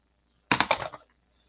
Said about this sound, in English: And then you take your scissors and give it a haircut.